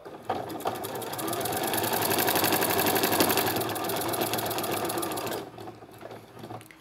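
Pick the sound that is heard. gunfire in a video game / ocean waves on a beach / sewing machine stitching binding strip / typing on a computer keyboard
sewing machine stitching binding strip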